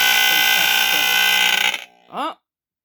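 A KF Industries Model 535 gas and smoke detector sounds its alarm, a loud, steady, piercing buzzing tone up close that cuts off abruptly, followed by a brief rising electronic chirp before silence.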